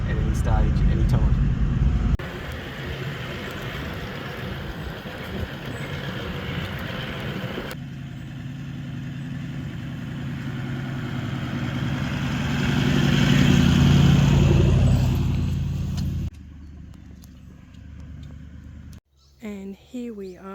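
A 4WD vehicle driving slowly in low range along a sandy track, a steady loud engine drone and road rumble that shifts in character partway, with a voice speaking over it.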